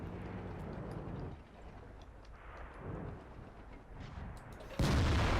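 A tank gun firing in World of Tanks, a heavy T110E5 battle: rumbling low background with distant thuds, then one loud, deep blast near the end.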